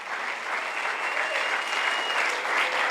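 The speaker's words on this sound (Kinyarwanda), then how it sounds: "Tumwongere amashyi kandi." Church congregation applauding during a sermon, a dense, even roar of many hands clapping, sustained and fairly distant with no break.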